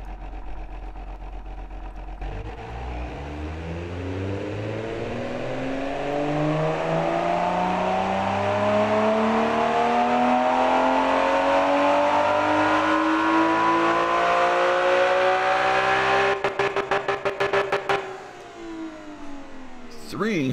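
A naturally aspirated straight-six with no catalytic converter or muffler, tuned for racing in the Automation car-building game, revs steadily upward to a loud, sustained high-rpm howl, then drops away with a few sharp blips near the end.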